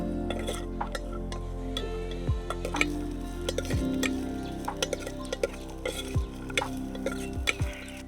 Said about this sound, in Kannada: ಗೋಡಂಬಿ ಮತ್ತು ಕಾಯಿ ಹೋಳು ನಮಗೆ ಸ್ವಲ್ಪ ತುಪ್ಪದಲ್ಲಿ ರೋಸ್ಟ್ ಮಾಡಲಿಕ್ಕೆ ಉಂಟು